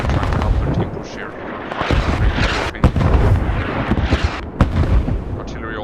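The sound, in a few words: artillery fire in a video game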